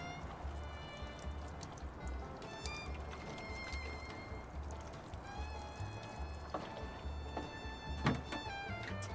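Water is poured over compost to wet the bedding in a garden worm bin, a soft, steady trickle and splash heard close and fairly quiet against a faint outdoor background.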